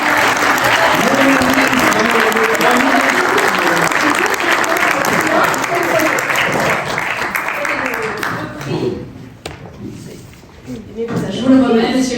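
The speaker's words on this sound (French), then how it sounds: "tonnerre d'applaudissements" A large audience at a French humour and politics awards evening breaks into loud, sustained applause that fills the room for several seconds, thins out briefly, then swells again, with voices mixed in.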